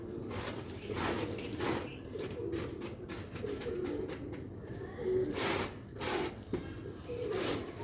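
Pigeons of a Sialkoti breed cooing steadily in a loft, soft repeated throaty coos layered over one another with some rustling and background noise, no talk.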